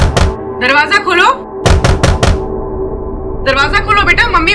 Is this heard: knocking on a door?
yes